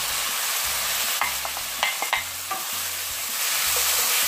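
Chopped mushrooms cooking in a hot pan with curry leaves for a mushroom kappa biryani, giving a steady sizzle with a few sharp stirring clatters and a low repeating hum underneath.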